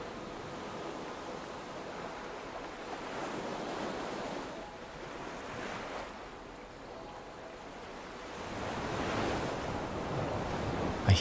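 Ocean waves surge and wash against a harsh, jagged rocky coastline in slow swells, rising and falling in loudness, with wind noise buffeting the microphone and no voices.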